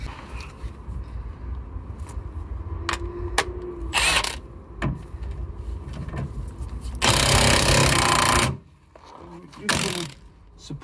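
Wrench working a large 21 mm suspension bolt on a first-generation Audi TT, with scattered metallic clicks and clanks, a loud sustained rattling burst and a shorter one later, and speech in between.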